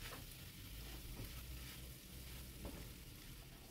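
Seasoning and a little salt are stirred through a sizzling frying pan while cooking a simple home dish for Lebaran, a soft steady crackle with faint scraping of the spoon, quiet and with no talking.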